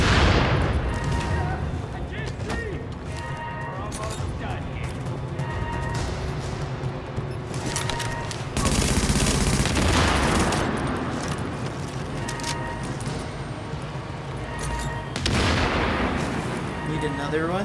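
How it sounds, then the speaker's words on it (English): Grenade blasts and gunfire in The Division video game: repeated heavy booms and bursts of shots, loud and close, with big explosions rising near the start, middle and end over constant battle noise and a voice talking. "I have plenty of grenades for you, buddy."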